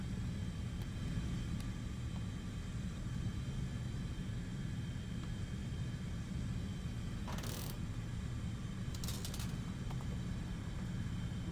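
Steady propeller-engine drone and low rumble of aircraft in War Thunder air combat against enemy bombers, constant throughout with two brief harsh bursts late on, no voices.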